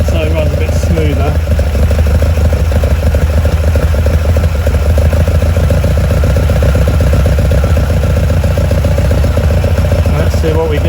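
Lotus Twin Cam engine idling at a slightly raised speed, a loud steady rhythmic mechanical throb with clattery valve noise, close up, with someone talking over it at moments.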